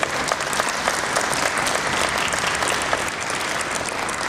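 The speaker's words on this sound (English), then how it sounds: "how about a round of applause for both the candidates just for letting their names stand" An audience gives a sustained round of applause for both presidential candidates, dense and even clapping with no talking.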